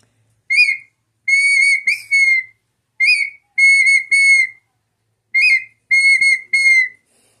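A human whistler imitates the call of a partridge (perdiz) by mouth, giving clear, loud, close repeated phrases. Each phrase is a short note followed by a longer wavering one, with three groups set apart by brief silences.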